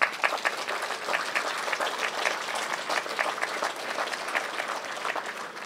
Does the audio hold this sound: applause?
yes